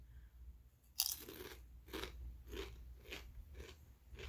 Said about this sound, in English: These crunch a little bit differently than regular Doritos do.